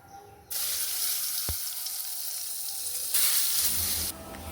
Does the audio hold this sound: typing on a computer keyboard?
no